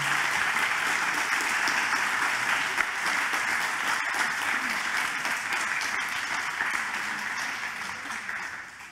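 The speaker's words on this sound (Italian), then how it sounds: "un applauso se lo meritano" Sustained audience applause for two speakers at a history festival talk, a dense, even roar of many hands clapping that holds steady for about nine seconds before tapering off at the end.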